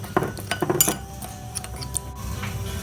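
A utensil clinks and scrapes against a dish while lime juice marinade for grilled sea bream is stirred, a handful of light taps in quick succession, then quieter scraping.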